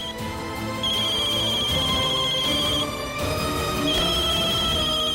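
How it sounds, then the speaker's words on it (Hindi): A telephone rings with a steady repeating electronic tone, loud and close, cycling in long bursts over a continuous background of music-like ambience. "फोन आ रहा है"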